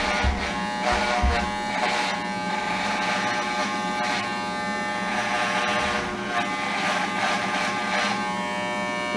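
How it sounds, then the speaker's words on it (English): An Oster hair clipper buzzes steadily at close range while cutting hair, a constant electric drone with slight dips and surges as it works through the hair. "If I can get my clipper to keep working"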